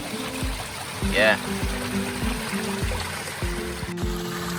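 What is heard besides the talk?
fresh spring water trickling into a jug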